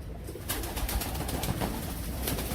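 Teddy pigeons coo softly in a loft, with a few soft flutters and scuffles heard nearby and no talking.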